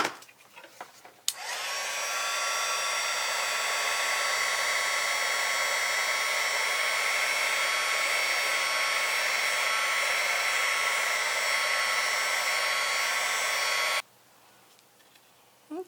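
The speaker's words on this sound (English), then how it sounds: "I will use my heat gun to melt that powder" A heat gun runs to melt embossing powder on a handmade birthday card, blowing with a loud, steady whining roar for about twelve seconds before switching off abruptly, with faint handling noises before and after.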